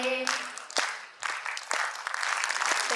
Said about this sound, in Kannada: ಜೋರಾದ ಚಪ್ಪಾಳೆ ಬರಬೇಕು